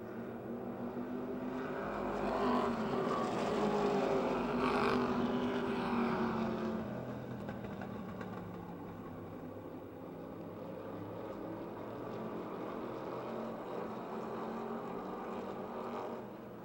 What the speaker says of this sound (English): The 6 car of Tom Frank, 4th on the racetrack, challenging for 3rd